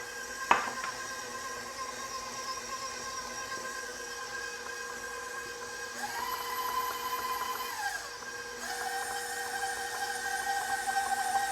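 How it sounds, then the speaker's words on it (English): Electric stand mixer with a dough hook working thick chocolate chip cookie dough, a steady whirring motor hum that changes pitch midway as the speed shifts, with one sharp knock near the start. "So I usually just use that dough hook and blend it in that way."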